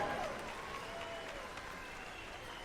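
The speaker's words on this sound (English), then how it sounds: "How about a round of applause for the Miss Indian World 30 contestants?" An audience at the 2018 Gathering of Nations claps for the Miss Indian World contestants, a faint, distant and fairly even patter of applause that fades slightly over a few seconds.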